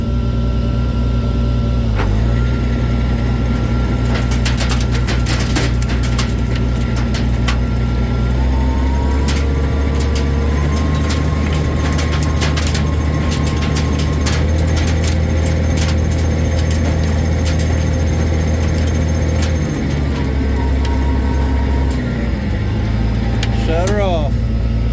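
A tractor's PTO drives a pecan harvesting machine, a loud steady mechanical drone with rattling and clanking throughout, rising in intensity partway and dropping briefly near the end, with voices talking over it.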